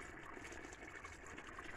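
Clear spring water flows out from the middle of a mountainside, a steady, faint, even rush and trickle with no talking.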